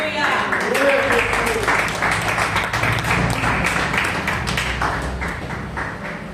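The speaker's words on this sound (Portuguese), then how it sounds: "aplaudam a palavra do Senhor" A church congregation breaks into sustained applause, a dense wash of many hands clapping close by, with a voice speaking briefly over it near the start.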